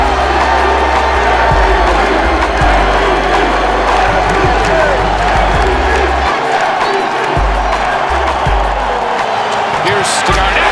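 A basketball arena crowd roars at a Boston Celtics game, a dense, constant wall of cheering that stays loud from start to finish, with a voice talking over it.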